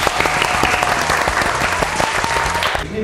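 A studio audience claps steadily and loudly at a Thai music contest show, a dense burst of applause that fades slightly at the end.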